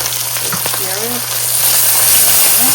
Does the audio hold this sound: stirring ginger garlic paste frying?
yes